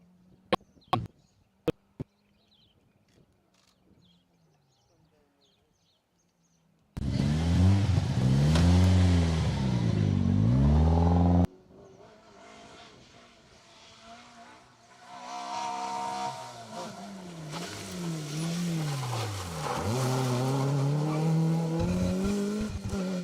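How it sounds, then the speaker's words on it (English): Ford Escort Cosworth rally car racing on a tarmac stage, heard as loud, close engine blasts that rise and fall through the gears, with a quiet start, then a fading pass followed by more hard acceleration. "It just looks great seeing an Escort Cosworth out here on these lanes"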